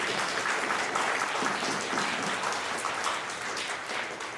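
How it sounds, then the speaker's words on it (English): Dense, sustained audience applause fills a hall at Vancouver's 30th Asian Heritage Festival, a rain-like wash of many hands clapping that stays loud before slowly easing. "please give a round of applause for the children"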